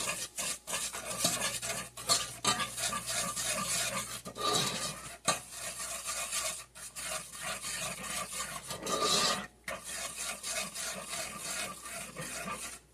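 A thick corn syrup candy mixture is stirred in a pot, giving continuous scraping, rasping strokes of spoon against metal with a steady rhythm, close and fairly loud, with brief pauses between strokes.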